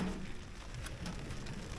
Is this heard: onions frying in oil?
no